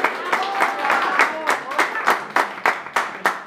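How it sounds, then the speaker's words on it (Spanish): Guests at a birthday party with a youth mariachi band clap in a steady rhythmic beat, sharp regular claps rising over a busy background of voices. "el aplauso para el mariachi"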